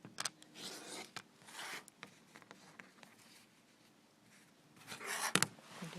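Quilt-block fabric is trimmed at the tips, with soft scraping, rasping cuts in short bursts near the start and again near the end, quiet between them.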